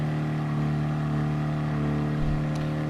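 Fiat 500 in Gran Turismo Sport at Circuit de la Sarthe, Le Mans: a steady, buzzing small engine held at high revs, droning evenly and close throughout with a brief low thump near the end.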